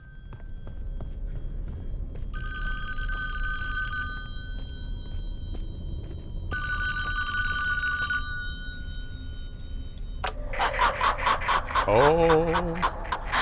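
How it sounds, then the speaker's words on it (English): A telephone bell rings in two long bursts with a pause between them, fairly close and loud, followed by brisk movement and footsteps with a person panting near the end. "And the phone's ringing again."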